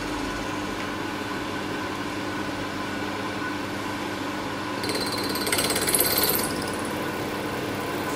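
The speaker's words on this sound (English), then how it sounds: "The drill is definitely working," A steady, grinding mechanical drone of a drill running continuously while drilling out a broken tap, with a brief sharper high-pitched screech of bit on metal partway through.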